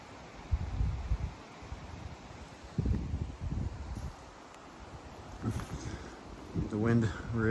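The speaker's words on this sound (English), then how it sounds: "The wind really picked up here this morning and last night too." Wind gusts through the trees and brush around a newly cleared patch of land, coming in low rumbling, buffeting bursts against the microphone with a soft rustling wash between them.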